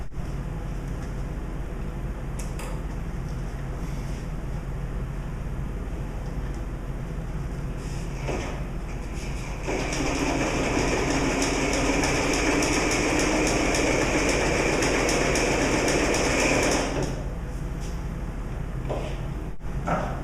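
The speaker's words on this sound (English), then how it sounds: "the machine's now ready to test to see how well it sews" A Singer 237 sewing machine sews scrap Cordura nylon: a low mechanical rumble that swells into a louder, steady, rattling run of about seven seconds before stopping, heard close with no talk.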